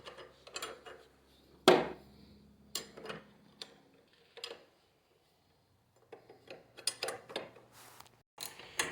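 Wrench clicking on a bolt on Indian Challenger motorcycle handlebars, a close series of short ratcheting ticks and metallic taps in brief bursts separated by pauses.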